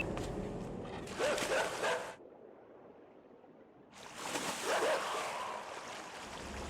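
Dogs bark in bursts over a rushing, watery background in the video game Inside, going quiet for a couple of seconds before the barking and splashing noise returns.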